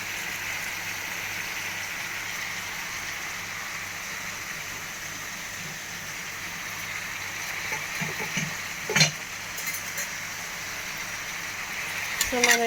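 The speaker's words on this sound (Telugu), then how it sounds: "సో మనం ఇలా పెద్దగా తీసుకొని కూరని చాలా జాగ్రత్తగా కలుపుకోవాలి" Eggplant curry being stirred in a frying pan, a steady soft sizzle running throughout with a few scraping clinks of the spoon against the pan near the end.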